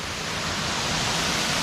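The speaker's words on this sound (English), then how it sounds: "you can come and swim in one of these lovely waterfall pools at the Huai Mae Khamin" Waterfall at Huai Mae Khamin in Kanchanaburi, a steady broadband roar of falling water that fills the whole clip, loud and close with no breaks or voices.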